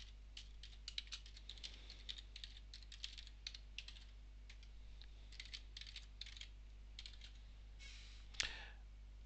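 Account credentials are typed on a computer keyboard: quiet, irregular bursts of key clicks over a low steady hum, ending in one sharper click, with no talking.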